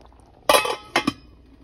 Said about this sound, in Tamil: மூடி வச்சிடலாம்.